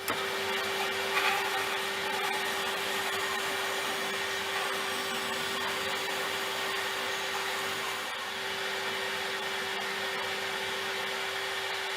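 A bandsaw runs steadily for the whole stretch, cutting angled lines into an acoustic guitar headstock in a luthier's workshop. It is a loud, constant motor whine with no talk over it.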